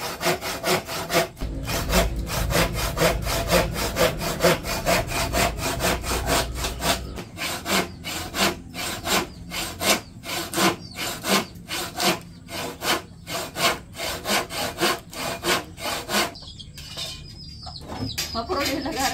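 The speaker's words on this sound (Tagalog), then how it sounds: "Naglalagari naman po siya ng gagamitin po namin na panggatong." Hand saw cutting wood for firewood outdoors, a loud, close, steady rhythm of back-and-forth rasping strokes throughout, with birds and a rooster faintly in the background.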